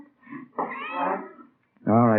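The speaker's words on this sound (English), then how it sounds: "It's a nice cat you got there. Siamese?" A part-Siamese cat meows indoors, two drawn-out, loud, close calls separated by a pause, heard alone without talk.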